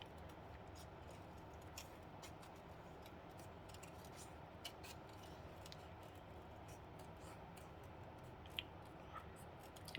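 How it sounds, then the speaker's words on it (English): Scissors fussy cutting paper around a stamped card piece, quiet close snips in a steady irregular series of small crisp clicks over a soft background hum. "I'm gonna quickly fussy cut this one."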